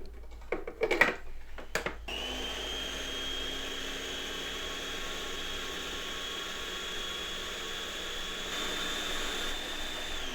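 An electric kitchen chopper grinds cubed strawberries, starting with a few short clattering pulses before settling into a steady, fairly quiet motor whir that runs on alone.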